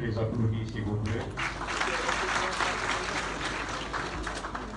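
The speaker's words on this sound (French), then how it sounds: "je vous prie de les applaudir s'il vous plaît" Applause from a large audience in a hall at a national party convention, steady and fairly loud for several seconds, with voices and crowd noise mixed underneath.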